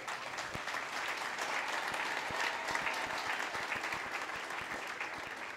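A church assembly breaks into loud, sustained applause, with dense overlapping claps filling the hall evenly throughout.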